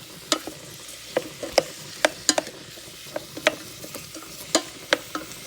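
Vegetables sizzling in olive oil in a pan, a low steady sizzle punctuated by sharp, regular clicks and scrapes of stirring, close and moderately loud with no voices.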